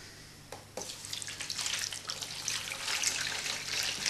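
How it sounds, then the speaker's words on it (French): Water poured into a bowl of salt while starting sourdough bread dough, a close trickling splash that begins after a brief knock and grows steadily fuller and louder, heard alone without speech. "on met l'eau."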